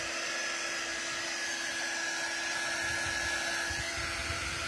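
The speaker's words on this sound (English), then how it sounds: "So I do have a fan on up ahead" An electric fan runs steadily nearby, a constant broadband whir with a faint tonal hum, drying a craft piece with no talk over it.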